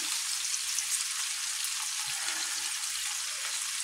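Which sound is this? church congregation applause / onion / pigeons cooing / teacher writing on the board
onion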